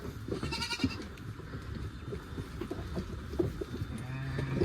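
A goat kid bleats amid a lively rural yard, with several short bleats and other livestock sounds mixed in, moderately close against background bustle.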